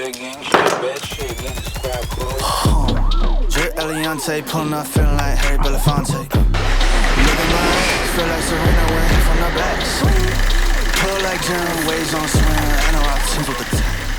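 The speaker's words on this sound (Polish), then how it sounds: "Silnik pracuje" A car engine idles steadily with the vehicle parked outside after carbon-deposit cleaning chemicals and an oil change, a continuous low rumble with some loud knocks early on, running throughout alongside a voice.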